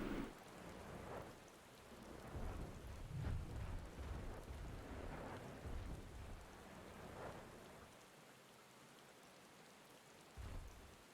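Rain and thunder at night in the video game Final Fantasy XIV, a dense, steady downpour with deep rolling rumbles swelling and fading beneath it, loud and continuous with no voices.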